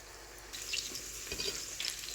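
Chapli kababs frying gently in oil over a low flame, a soft continuous sizzle with faint crackles and a few small clinks near the pan.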